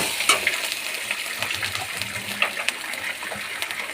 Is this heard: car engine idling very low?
no